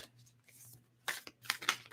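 Tarot cards being shuffled during a reading, a quiet riffle and several quick papery shuffles in the second half, close by with no talk over them.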